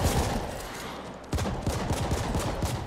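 Rapid gunfire from a weapon in The Ascent, a cyberpunk shooter game, crackling in a dense, continuous burst that briefly drops off and then resumes with a rhythmic run of sharp shots, fairly loud throughout.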